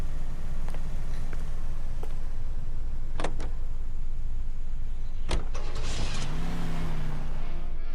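Car in the video game L.A. Noire, a steady low engine rumble with a few sharp clicks and a door or window mechanism sound near the end.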